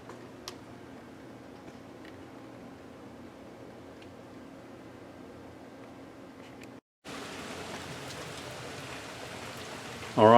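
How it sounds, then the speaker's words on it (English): Steady light rain hisses softly with faint ticking drops. After a brief cut, a brighter, wetter patter continues, and a voice briefly starts at the very end. "It's just raining lightly."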